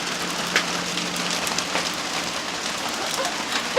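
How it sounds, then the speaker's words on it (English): Steady rain falling outdoors, a dense continuous hiss of drops hitting surfaces with occasional louder spatters, heard alone without any voices. "It is raining outside."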